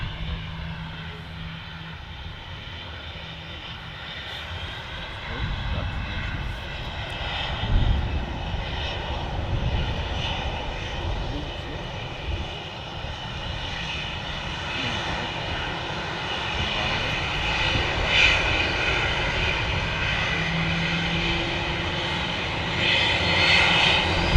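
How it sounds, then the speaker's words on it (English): A KLM airliner arriving at Manchester Airport from Amsterdam, its engines a steady, moderately distant roar with a whining tonal edge that swells slightly over the full stretch, with no talk. "It's like KLM 73 just arriving at Manchester from Amsterdam."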